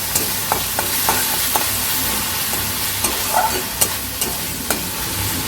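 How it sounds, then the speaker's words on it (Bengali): Spices with onion and garlic, mixed with salt, turmeric powder and a little sugar, fry in a pan for egg bhapa curry, a steady sizzle broken by repeated spatula scrapes and clinks up close. "এটাকে 1 মিনিটের মতো আমি ভালো করে একটু ভেজে নিচ্ছি।"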